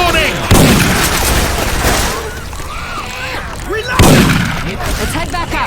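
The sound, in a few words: Syphon Filter weapon gunfire sound effect in Left 4 Dead 2 video game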